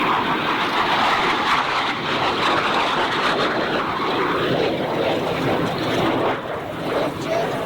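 A MiG-15bis and a de Havilland Vampire jet fly together at a summer air show at Duxford, their engines a continuous broad distant roar that swells and fades slightly throughout.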